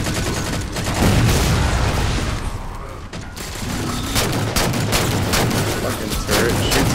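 Turret gunfire in the Halo Spartan Ops video game sounds as dense, loud, continuous bursts of shots and explosions, with game voices faintly mixed in.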